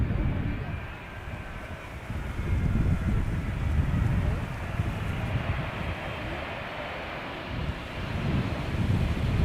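A KLM Boeing 777-200ER airliner, flight 636 from Las Vegas, arriving at Amsterdam Schiphol Airport, a broad, rolling engine roar swelling and easing beneath heavy wind buffeting on the microphone.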